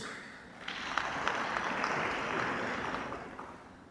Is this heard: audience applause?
yes